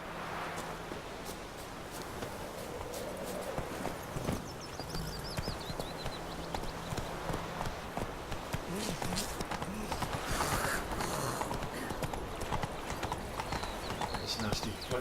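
The horse Roach's hooves clip-clop in The Witcher 3 video game, a steady rhythmic patter of hoofbeats throughout under game ambience and a voice talking.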